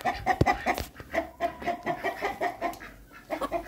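A rooster clucks repeatedly in a quick, rhythmic series of short calls, close by, with a few brief handling bumps.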